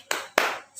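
Children in a classroom do a rhythmic spirit clap: two sharp, close hand claps spaced about a quarter second apart, with a third starting at the end.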